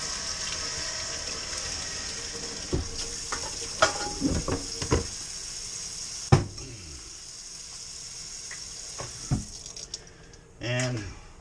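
A steady hiss of hot water sprayed up inside an upside-down home brew beer keg fills the clip, broken by several hollow metallic knocks and clanks, ending with a brief gurgling splash.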